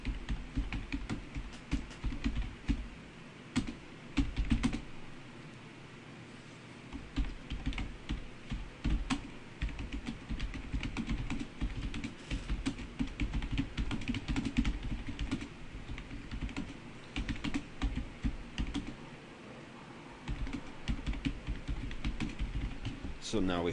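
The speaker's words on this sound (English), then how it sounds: "So we'll type something up real quick." Rapid typing on a computer keyboard, with steady clusters of key clicks close to the microphone over a low background hum, with brief pauses.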